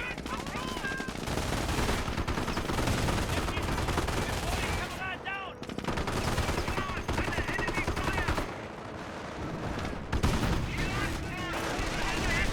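Infantry squad gunfire in Company of Heroes 1 crackles in rapid, overlapping bursts and dense volleys amid a wider battle, with a voice talking over parts of the fighting.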